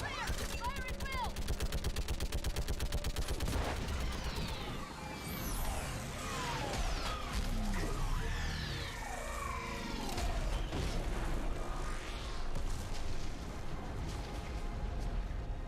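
Heavy gunfire and booming explosions from a Mass Effect 3 battle against a Reaper, with rapid repeated shots and sweeping blasts filling the whole stretch at a loud, constant level.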